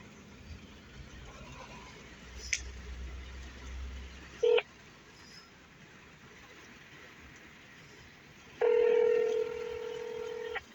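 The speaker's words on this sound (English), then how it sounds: "Let me recall her. I'm going to redial it." Telephone keypad redial: a short tone burst near the middle, then a longer stretch of steady dialing beeps toward the end over faint background hiss and low hum.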